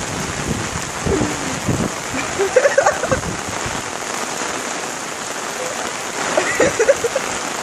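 Steady rain patters and hisses across surfaces nearby while a dog is out in it for the first time, with a few faint voices and small movements breaking through the constant wash.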